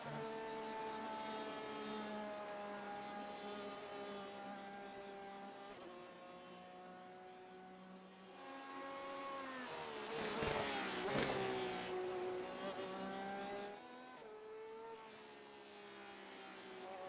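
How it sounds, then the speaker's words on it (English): A Porsche race car in iRacing revs high and steady, its engine note dipping sharply through downshifts around the middle before climbing again, loud and continuous throughout. "The sound of the Porsche on the TV cam when it downshifts is incredible."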